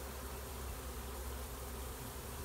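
Honeybees of a swarm streaming into a swarm trap make a faint, even drone of countless wings, a continuous hum without pauses or voices.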